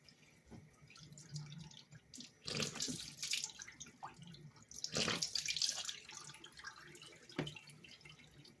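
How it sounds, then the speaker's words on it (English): Tap water runs at a bathroom sink while someone washes their face, with soft splashes and drips and louder bursts of running water and splashing, faint and close. "Let me wash my face real quick."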